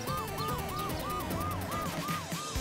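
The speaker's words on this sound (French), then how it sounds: "L'ambulance a amené notre Suzy blessée." Cartoon ambulance siren wailing in a steady repeating up-and-down pattern, loud and continuous over a busy background of music and effects.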